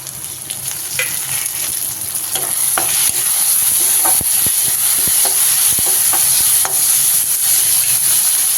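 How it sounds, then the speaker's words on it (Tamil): Tomatoes and onions sauté in a pan, a loud continuous hiss of frying with repeated spatula scrapes and taps against the metal throughout, no one speaking. "இந்த ஸ்டேஜில் தக்காளியை சேர்த்து வதக்கிக்கலாம்"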